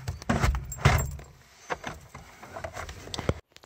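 Car keys for a Seat Leon II jangle in a few close metallic rattles and clinks, followed by quieter handling noises.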